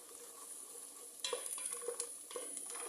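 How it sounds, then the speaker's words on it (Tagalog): Onions cooking in a pan before the garlic goes in, a faint steady sizzle with a few louder bursts of stirring and scraping partway through, close and quiet, no voices. "lutuin natin mabuti yung sibuyas."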